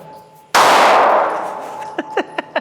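A single pistol shot from a handgun topped with a Vortex Defender red dot, fired during a wet torture test: one sharp, loud crack with a long decaying ring, followed by several short metallic clinks.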